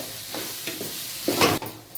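A spoon scrapes and stirs cooked rice in a hot pan, several short scraping strokes over a soft sizzle, close and fairly loud.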